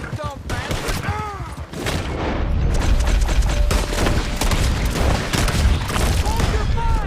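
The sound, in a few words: gunfire in video game Red Dead Redemption 2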